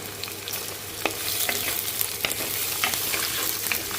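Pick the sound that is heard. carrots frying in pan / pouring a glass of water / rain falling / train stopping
carrots frying in pan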